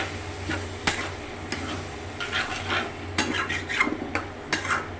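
Spinach paste stirred in an oiled pan with turmeric and chili: a spoon scrapes and clinks against the metal in a steady, uneven rhythm over a soft background hiss, close by and with no talking.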